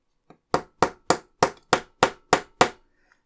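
A series of eight sharp hammer taps at a steady rhythm, loud and close, with a faint light tap before them, while assembling a 1:8 scale 1961 E-Type Jaguar model.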